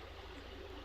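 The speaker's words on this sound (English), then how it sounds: "you listen close, you can hear the creek." Faint, steady rushing of a creek flowing through an open spot in otherwise frozen ice, a continuous low wash of water with a low rumble beneath it and no talking.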